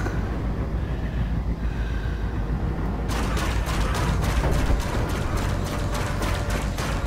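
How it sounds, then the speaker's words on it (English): Rapid ship cannon fire in the space game Elite: Dangerous, fired from a Diamondback, with a steady train of sharp bursts starting midway over a constant rumbling engine hum. "There's definitely improvement in the old cannon sound effects."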